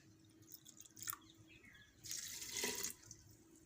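Water pours into a pot of millet and moong dal for khichdi, a faint, brief splash after a few quiet drips.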